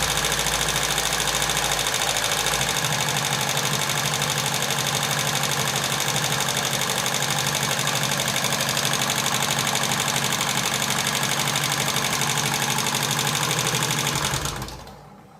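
A TVS XL100 moped engine idles with a steady, close mechanical chatter and a faint rapid tappet clicking, running continuously before cutting off near the end.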